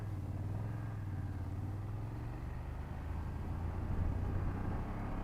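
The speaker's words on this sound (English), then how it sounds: "here I'm doing a little bit of rev matching" A BMW F800GS motorcycle engine idles with a steady low rumble, then the revs rise and fall briefly as gears are matched, fairly close and continuous.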